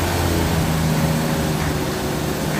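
A 1970 Plymouth Superbird engine with full exhaust runs at a steady, loud drone with a low rumble, and the level barely changes. No one speaks.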